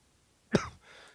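A single short cough, close and fairly soft, followed by a faint breathy exhale in otherwise quiet surroundings.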